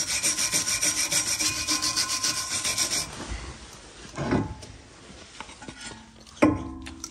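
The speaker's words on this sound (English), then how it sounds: "Clean off any contact surfaces, so got the caliper carrier where the pads meet." Brisk rubbing and scraping cleans the brake caliper carrier contact surfaces on a Seat Ibiza MK5, a close rhythmic back-and-forth rasp for about three seconds, then a few isolated scrapes and clunks.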